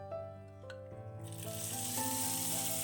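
Mustard seeds, dried red chillies and curry leaves hot in oil are poured into coconut chutney, setting off a sudden loud sizzle that builds and holds steady with crackling spatter after a quieter start.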